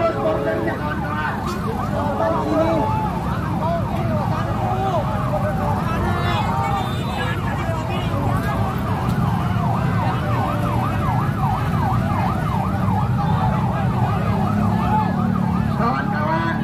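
An ambulance siren wails in a steady, rising and falling cycle at a student street protest, loud and close, with a crowd and voices underneath throughout.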